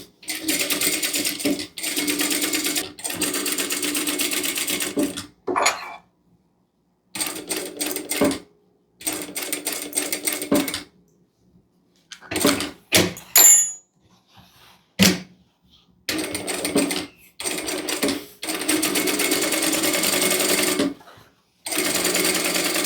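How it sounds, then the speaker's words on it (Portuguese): A domestic sewing machine stitches through joined fabric pieces in repeated loud bursts, stopping and starting with short silent pauses and a few clunks between runs. "Eu venho com a costura aqui e a agulha para na vala entre a união das duas partes"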